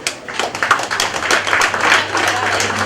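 An audience at a climate action gathering in Uganda claps for a guest of honour, with quick irregular hand claps building into scattered, lively applause close to the microphone.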